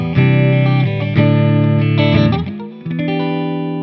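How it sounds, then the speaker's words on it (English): A Peavey mini guitar amp head on its clean channel with a touch of reverb, playing chords and single notes that ring out loud and close, with a short dip near the end before the tone resumes. "We're going to do a little bit of a reverb on the light end on the clean channel"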